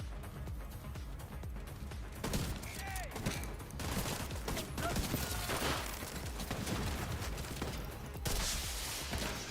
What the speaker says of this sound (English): Fireworks, anybody?